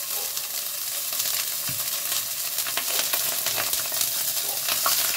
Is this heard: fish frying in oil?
yes